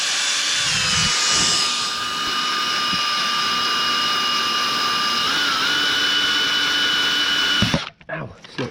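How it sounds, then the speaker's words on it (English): Continuous power wire brushing of seized cylinder liners on a Massey Ferguson 675 Perkins engine, a loud steady whirring grind that runs unbroken for nearly eight seconds, then cuts off abruptly into a few faint clatters. "there's only so much wire brushing you can do"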